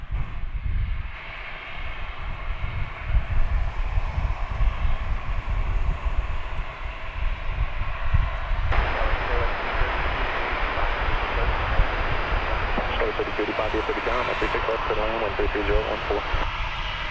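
A Finnair airliner arrives at DFW Airport, its engine roar steady and fairly loud, with people talking over the jet noise throughout.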